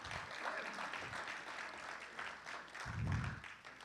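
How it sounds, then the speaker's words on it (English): Audience applause at a Hall of Fame induction speech, a steady round of clapping from a crowd lasting several seconds, with a low thump near the end. "Give him a round of applause."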